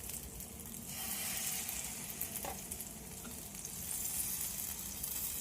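Chopped vegetables sizzle steadily on a hot tawa griddle over a gas flame, a continuous close crackling hiss with light stirring scrapes and no talking.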